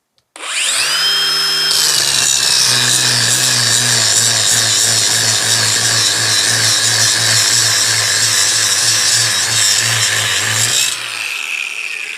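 A Makita brushless battery angle grinder spins up and bites into material, giving a steady, loud, harsh grinding whine that holds for about ten seconds before winding down.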